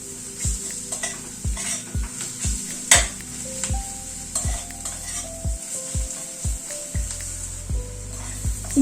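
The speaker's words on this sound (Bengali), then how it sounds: "এবার পেঁয়াজের সাথে গুঁড়ো মশলাগুলো একটুখানি নাড়াচাড়া করে নেব" A spoon stirs onions with ground spices, including garam masala, in a hot pan for a chicken dish, scraping and clinking in a steady rhythm over a soft sizzle, close and clear with no talk.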